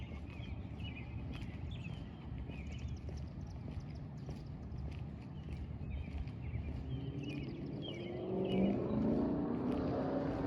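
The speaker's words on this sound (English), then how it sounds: "That was the engine sound going off this way." A car engine rumbles steadily in the background and swells as a vehicle approaches and passes, with faint birdsong chirping over the top.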